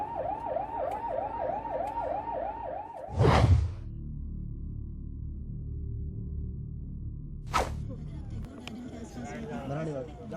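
An ambulance siren wails in a steady rising-and-falling cycle amid a Delhi traffic jam, then cuts off; traffic rumble and chatter continue, with two sharp whooshes of passing vehicles.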